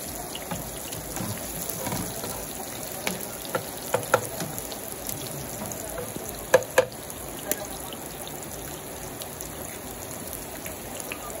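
Eggs being scrambled and fried in a pan on a farm, with a soft steady sizzle close by, broken by occasional light clicks and taps of a utensil against the pan.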